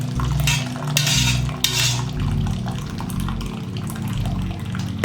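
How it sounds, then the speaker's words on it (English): Hot Concord grape juice runs from cooked homegrown grapes into a bowl, a close and fairly loud wet trickle with a few soft clinks of kitchenware. "So I'm just gonna let this sit here and let it continue to drain into the bowl."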